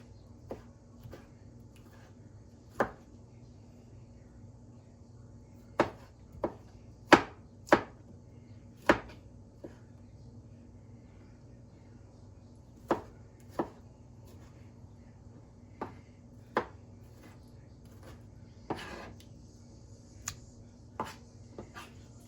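A knife chops tomatoes on a cutting board for homemade salsa in irregular sharp knocks, sometimes single, sometimes in quick pairs, with quiet pauses between them.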